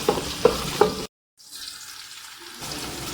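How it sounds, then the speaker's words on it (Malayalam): Onions, green chillies, ginger and curry leaves are stirred in a frying pan for a fish head curry, giving a few scraping stirs over a steady sizzle, with a brief dropout midway and no talking. "ഇതെല്ലാം കൂടെ നന്നായിട്ട് ഇളക്കി കൊടുക്കാം."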